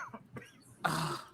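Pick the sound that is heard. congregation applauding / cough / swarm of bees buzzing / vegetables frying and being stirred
cough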